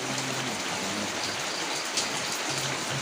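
Steady rain falling, an even hiss of drops on surfaces with a faint low hum underneath.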